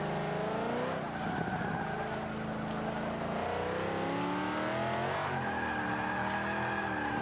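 Z06 Corvette tires spinning and squealing in the Forza 5 racing game, a loud continuous engine roar with wavering tire screech throughout, rising in pitch near the end.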